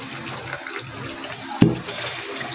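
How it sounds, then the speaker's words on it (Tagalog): Cooked chapchae noodles draining under running tap water, a steady rushing water sound with a brief louder splash partway through. "I-drain na natin ang ating noodles."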